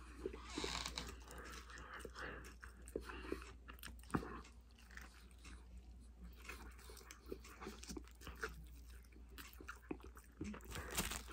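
Someone bites and chews a crispy KFC Double Down chicken sandwich, with close, repeated crunching and mouth sounds over a steady low hum and no talking.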